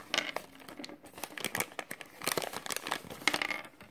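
A Littlest Pet Shop surprise package gets opened, its plastic wrapper crinkling and rustling in close, irregular bursts of handling.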